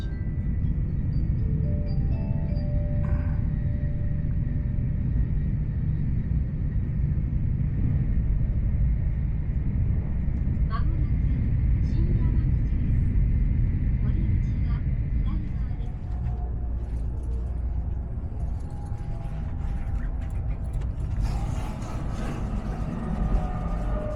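Inside a Shinkansen bullet train in Japan, a constant low rumble and hum of the carriage at speed fills the cabin, steady throughout, with people talking over it.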